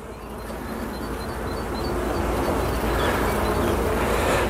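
Honey bees at an open hive during a spring inspection, a dense, continuous buzzing swarm drone that swells slightly louder over the span, close and unbroken with no voices.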